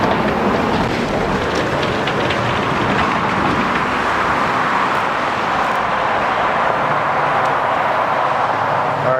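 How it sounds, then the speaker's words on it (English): A line of cars approaches and rolls past on a road at night, their tires and engines forming a steady broadband wash that swells and fades slightly, close and fairly loud, with no talk. "we do have a trail of cars approaching us"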